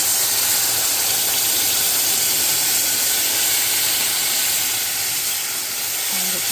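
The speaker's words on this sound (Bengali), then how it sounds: "এখন আমি এটার মধ্যে দেবো জল।" Water poured into roasted semolina in a hot pan hisses and sizzles loudly and steadily, a broad continuous steam noise that holds level and close for the whole stretch, with no voice over it.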